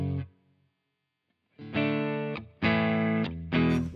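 Clean electric guitar played direct through a Strymon Iridium amp modeler with a 4x12 Greenback cabinet impulse response, sounding as a brief note, a pause, then three ringing strummed chords in succession, close and alone.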